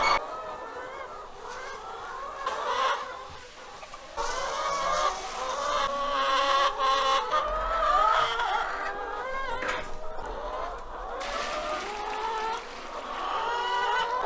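Hens cluck and murmur steadily in a close, busy chorus inside a farm coop during a snowstorm, with occasional louder squawks rising over the continuous chatter.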